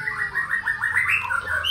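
A long-tailed white-rumped shama, a tame murai batu just out of moult with a roughly 23 cm tail, sings a continuous run of bright, varied whistling phrases close by, with no talk.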